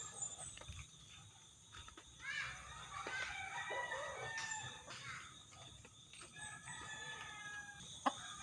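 A bantam rooster crows repeatedly at mid distance among chickens clucking, against a steady outdoor background with a short sharp knock near the end; no talk.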